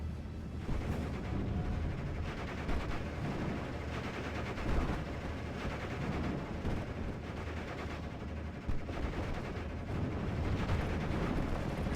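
A Steel Division battle between Panzer Lehr and 101st Airborne units, with autocannon and small-arms gunfire rattling continuously, dense overlapping bursts and booms at steady loudness, no speech.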